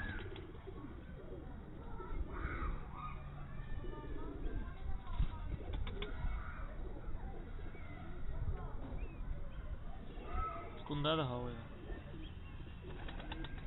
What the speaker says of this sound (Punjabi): ਚੰਗਾ ਕਬੂਤਰ